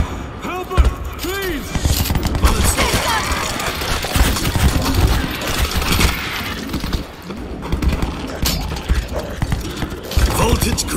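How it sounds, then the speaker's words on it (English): A stationary mounted machine gun firing in the zombie shooter World War Z Aftermath, loud dense bursts of gunfire and impacts running throughout, mixed with chaotic game noise and shouting voices. "Stationary machine gun in position."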